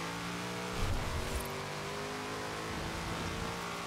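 A Shelby Monaco in Forza Horizon 4 accelerates with a steady, loud, sustained engine roar that rises in revs and carries through without a break.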